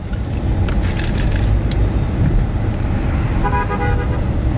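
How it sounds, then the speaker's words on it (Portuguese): A car horn honks on a busy street, its tones standing out in the second half over steady, loud traffic rumble from passing vehicles. "e outro cara buzinando"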